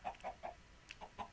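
Chicken clucks from Minecraft, a short series of soft, evenly spaced clucks with one higher chirp in the middle, close and quiet with no other sound.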